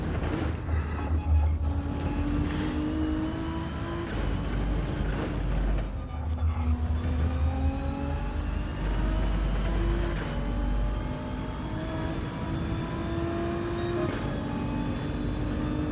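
A Bugatti engine in the video game Gran Turismo 7 drones steadily, its pitch climbing and dropping through gear shifts, with low rumbling thumps underneath, all at a steady loud level.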